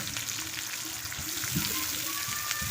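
Chopped onion sizzling in hot oil in a pan for spiced brinjal bharit, a steady crackling hiss with faint stirring scrapes, close and continuous with no voices.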